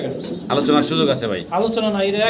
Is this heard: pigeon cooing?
yes